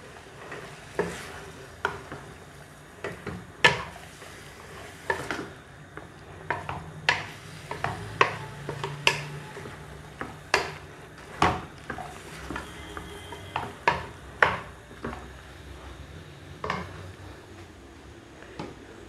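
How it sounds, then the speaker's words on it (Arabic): Peppers and raw garlic are stirred in a pan for chicken shakshuka, with a spoon scraping and knocking the pan in an irregular run of sharp clicks over a faint steady sizzle, close by, with no talk. "قلب الفلفل مع التوم مع المكونات كلها"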